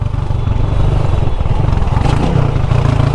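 A motorcycle engine revs on the throttle under way on a wet Jamaican road, a loud, continuous rough drone with rising and falling engine pitch and some clatter, close by throughout.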